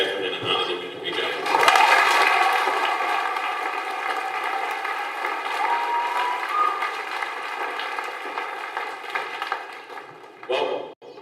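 A graduation audience applauds in a large hall, a broad, steady roar of many hands that swells early and continues at an even level before tailing off abruptly near the end.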